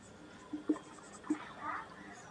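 Pen or chalk writing out points during a maths lesson, a few short scratchy strokes and taps followed by a longer scrawl, quiet and close with faint room noise.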